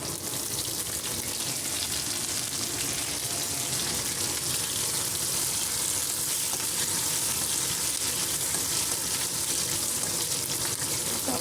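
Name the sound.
curry leaves and dried red chilies frying in oil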